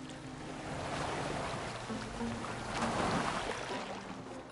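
A boat moves across open water in Assassin's Creed Valhalla, with steady splashing waves and a rushing wash of water and wind that swells and eases throughout, with no voices.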